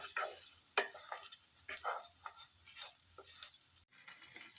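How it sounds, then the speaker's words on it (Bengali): A spoon stirs sugar into a pot, giving soft, faint scraping strokes and light clinks in irregular bursts close by in a quiet room, with no voices. "দিয়ে এটাকে ভালো করে মিশিয়ে নেব।"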